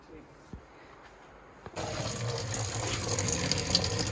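Water gushes from a tap while a box is being washed; after a couple of soft knocks, the flow starts abruptly and keeps running steadily and fairly close, with a voice speaking over it.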